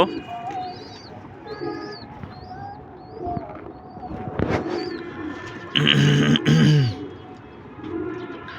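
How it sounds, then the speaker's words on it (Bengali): Pigeons coo softly in a low, throaty pattern amid small bird chirps and faint background noise. "কবুতরের মনে হয় খোদা লাগছে ওদেরকে সবাইকে খাবার দিতে হবে আজকে"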